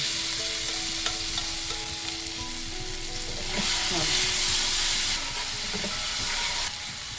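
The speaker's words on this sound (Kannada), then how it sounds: "ಬದನೆಕಾಯಿನ ಸ್ಮ್ಯಾಶ್ ಮಾಡ್ಕೊಬಂದಲ್ಲ ಅದನ್ನು ಇದರೊಳಗಡೆ ಹಾಕೋಣ" Mashed eggplant frying in a pan with mustard seeds and cumin, a continuous crackling sizzle with occasional stirring scrapes, steady and close, growing slightly louder midway with no talk.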